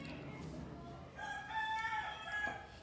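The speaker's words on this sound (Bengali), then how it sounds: "এত সুন্দর করে আমার পশু পাখি ডাকে যে লাইভের মধ্যেই শোনা যাচ্ছে" A rooster crows somewhere in the distance, a faint drawn-out call rising over low room noise in the latter half.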